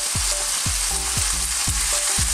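Tomato goes into onions frying in a pan for Filipino ginisang repolyo, a steady close sizzle with rhythmic scraping stirs repeating about twice a second, no voices.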